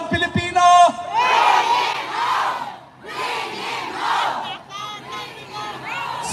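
A political rally crowd roars a chant in unison, two long surging waves of massed shouting with a brief dip between, loud and dense, opened by a few short bursts of amplified voice.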